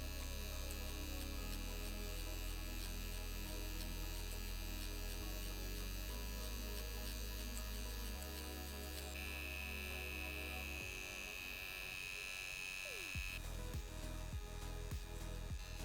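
A rotary tattoo machine set to a 2 mm stroke buzzes steadily at close range while applying powder brows with hybrid pigments, a continuous electric hum with slight shifts in pitch and a brief pause near the end.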